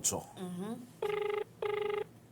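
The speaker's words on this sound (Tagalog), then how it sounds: "piga-apodan mi tabi ang telepono ni Mr. Rogelio Agimba." Telephone ringback during a call-in radio segment: two identical buzzing ring bursts, each about half a second, sound after a brief voice, clear and close.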